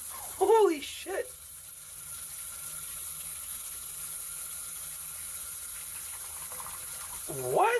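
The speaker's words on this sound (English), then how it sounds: "I think it is draining." Steady rushing water from a sink after drain cleaner, a continuous gush that holds for several seconds while a voice exclaims briefly at the start and again at the end.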